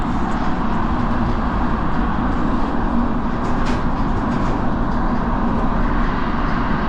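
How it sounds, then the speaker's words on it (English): A train in England rumbles steadily and loudly in motion, a continuous low-frequency roar without pauses, heard from inside or very close. "And it looks like just train."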